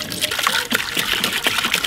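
White distilled vinegar at 5% acidity is poured from a gallon jug over a cast iron skillet in a plastic bin. The pour makes a steady, close splashing trickle that lasts about two seconds.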